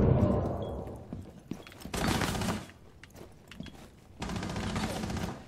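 Rainbow Six Siege gunfire: rapid automatic bursts in three dense volleys separated by quieter gaps, loud and close, with scattered mechanical clatter and thuds between.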